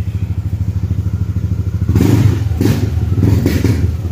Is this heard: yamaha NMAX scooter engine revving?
yes